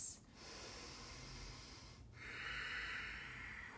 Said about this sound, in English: Breathe in and out of your nose. Nice, slow, long breaths.